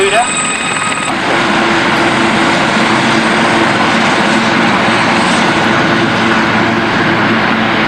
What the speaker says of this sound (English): The 105 Red Bull helicopter.